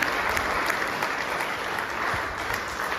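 Steady, dense applause from a theatre audience honouring the performers of a stage play, a continuous wash of many hands clapping at even loudness with no voices standing out.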